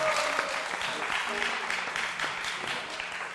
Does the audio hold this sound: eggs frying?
no